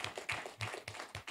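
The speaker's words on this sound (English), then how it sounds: "Can we please give him a round of applause for that?" A brief patter of hand clapping for a panel speaker at the NIFSTV 2024 summit, faint and quick with only a few hands audible.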